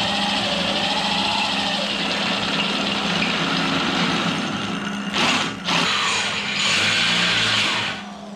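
Drill boring holes in a steel Mopar body dolly: a steady, loud whirring grind throughout, with a short interruption and a shift in pitch near the end, and no talk.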